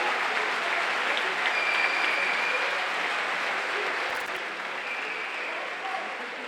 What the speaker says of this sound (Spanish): Otro aplausito así para el calentado de las manos